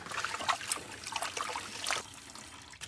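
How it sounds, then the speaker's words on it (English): Hands wash under a running kitchen tap, an irregular splashing trickle of water, quiet and close, with no talk. "I'm going to just wash my hands again."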